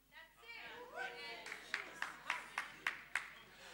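A lone pair of hands claps about six times at an even, steady pace in a church audience during a sermon. The claps follow a short stretch of voices.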